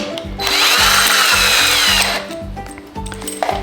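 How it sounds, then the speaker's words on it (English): A power drill bores a pilot hole into wood for a raised garden bed, whirring loudly and close for about two seconds, then winding down as it is pulled free with a few clicks. "Before you drill a screw in, it's a really good idea to drill a pre-hole"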